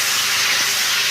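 Taro leaves dropped into a hot pan of fried onion give a steady, loud, close sizzling hiss with no pause throughout.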